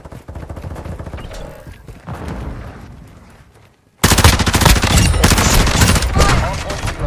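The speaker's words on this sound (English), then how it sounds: "Taking effective fire." Quiet game ambience with scattered distant shots gives way abruptly to loud, sustained rapid automatic gunfire in Modern Warfare 2 Hardpoint, dense bursts filling the rest of the stretch.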